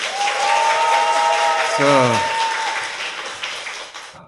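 A studio audience claps steadily through the whole stretch, a dense even patter that slowly fades, with a brief spoken word near the start.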